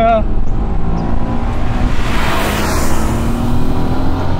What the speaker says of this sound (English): This car just sounds so good when you get on it.